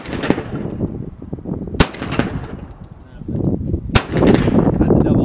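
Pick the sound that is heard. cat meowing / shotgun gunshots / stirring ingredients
shotgun gunshots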